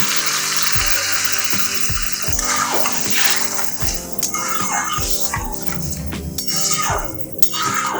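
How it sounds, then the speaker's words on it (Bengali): Water is poured from a bowl onto rice in a pot for pineapple polao, a steady gushing splash close by, with clinks and a faint background hum and no talk. "জলটা আমি দেবো এই বাটি করে"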